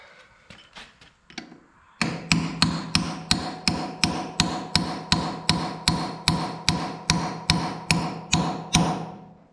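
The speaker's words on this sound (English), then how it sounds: "And a bigger hammer." A hammer pounding on the rear wheel of a Minneapolis Moline G950 tractor: a few lighter taps, then a loud, steady run of about eighteen evenly spaced metallic blows.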